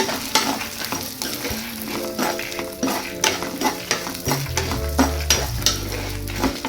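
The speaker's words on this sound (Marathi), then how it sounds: "या टायमाला मी मिरची पण ॲड करून घेते." Lentils and green chillies fry in a pan for South Indian pudina thogayal, giving a close, steady sizzle broken by rhythmic scraping stirs and light clinks of a utensil against the pan, with no talk.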